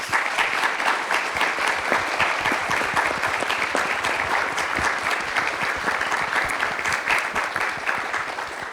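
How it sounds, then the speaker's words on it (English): Sustained applause from a panel-discussion audience, dense steady clapping filling the room at close range for the whole stretch, without a break or any talk over it. "Let's give these folks another round of applause."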